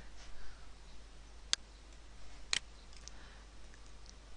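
A computer mouse gives two sharp, isolated clicks about a second apart during work in GIMP image software, faint and close over a quiet room hum.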